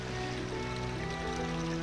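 Waterfall at Zora's Domain in Zelda: Ocarina of Time, a steady rushing wash of water with a low hum of game music beneath, brief and continuous.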